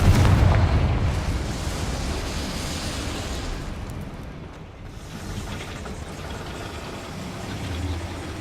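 A Confringo fire spell blasts in Hogwarts Legacy inside a goblin mine, a loud, dense burst at the start that settles into a sustained rumbling roar with no talk over it.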